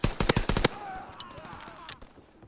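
Burst gunfire in a video game shooter: a quick rapid volley of about six loud, close shots, then fading echoes and faint background game noise.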